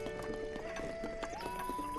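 Horse hooves clip-clop steadily at a gallop in The Legend of Zelda: Breath of the Wild, with game music running underneath throughout.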